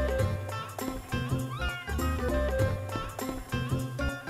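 A cat in the Chrono Cross video game meows in a few short, rising cries that are mixed with bright, busy game music.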